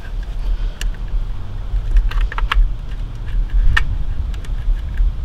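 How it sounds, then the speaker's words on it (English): A BMW DISA valve unit is worked loose from the intake manifold, producing scattered sharp plastic clicks and scrapes over a steady low rumble, close and irregular without speech. "we'll just wiggle the whole unit back from the manifold"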